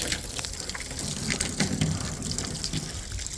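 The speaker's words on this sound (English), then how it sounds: "Trying to keep the hose from rubbing up against the car body and not splashing." A garden hose streams water over a car body during rinsing, a continuous hissing gush with small splashy fluctuations, close and steady with no voices.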